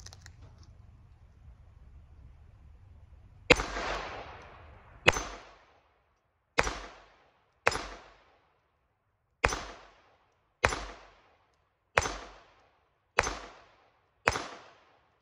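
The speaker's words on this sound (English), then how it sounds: "I'm gonna shoot the little 22 here, little G44, 22 cal." A Glock 44 .22 LR pistol fires nine sharp, close shots at irregular intervals of roughly one to two seconds, each crack followed by a brief decaying echo. A low hum precedes the first shot.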